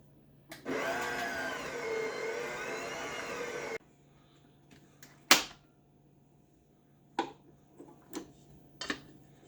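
An electric mixer or blender runs for about three seconds, mixing buttermilk into apple cake batter, a steady whirring hum that then stops, followed by scattered kitchen clicks and taps.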